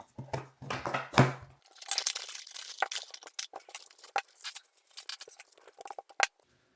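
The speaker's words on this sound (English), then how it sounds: "now let's unbox the close-up lens" An Insta360 close-up lens kit being unboxed: crinkling packaging, tearing and scattered light taps and clicks, close and irregular, fading into quiet.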